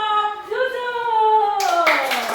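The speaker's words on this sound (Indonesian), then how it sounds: "tepuk tangan untuk kelompok" A classroom group is applauded near the end, a short burst of clapping that follows a drawn-out, sung-sounding voice.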